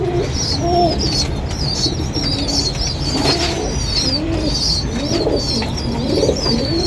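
Several pigeons coo repeatedly after drinking water at their loft, rolling calls overlapping close and fairly loud, with occasional wing flutters and chirps over a steady background hum.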